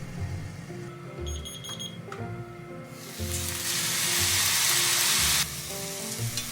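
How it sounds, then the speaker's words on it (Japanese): Meat pan-steaming under a lid after being flipped, cooked on medium-low heat, with a steady crackling sizzle that swells into a loud hissing burst in the middle before settling back, alongside a brief electronic beeping tone early on. "片面が焼けたらひっくり返して蓋をして4分弱めの中火で蒸し焼きにします"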